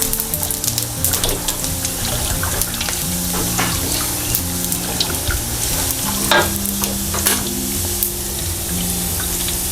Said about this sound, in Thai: เราก็ทอดจนเหลืองถูกใจแล้วเราก็ช้อนขึ้นเลยค่ะ